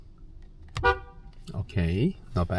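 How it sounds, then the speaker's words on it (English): A single short car horn toot sounds up close inside the car, followed right away by a person speaking. "And then what's the sound of the horn?"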